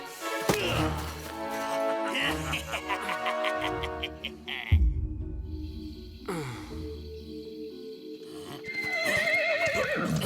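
Horses neighing and galloping in a Zorro cartoon, loud whinnies with hoof clatter and thuds, music-like tones and brief vocal gasps mixed in, ending in another rising whinny.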